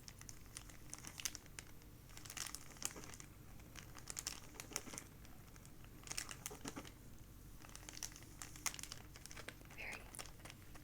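Plastic packaging around miniatures crinkles up close in repeated crackly bursts, soft and steady throughout with no voice.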